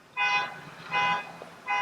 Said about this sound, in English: Do you hear this honking?